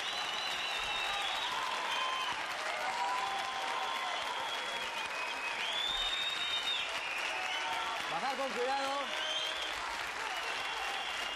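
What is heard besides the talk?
audience giving a standing ovation, applause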